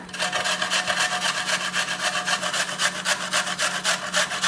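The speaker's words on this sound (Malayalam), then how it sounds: "എടുത്ത് വെച്ചേക്കണ ആപ്പിൾ ഗ്രേറ്റ് ചെയ്തിടാം." An apple being grated by hand for a milk and sabja sarbath, a steady, rapid rasping scrape repeating in even strokes, close and fairly loud with no talking.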